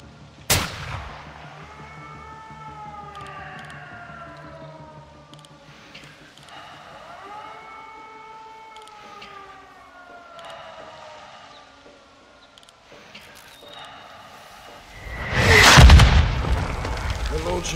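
Mortar fire and explosions in Call of Duty: Modern Warfare 2 gameplay, with a sharp blast at the start, a rising siren-like tonal wail through the middle and a heavy explosion near the end, all loud and close.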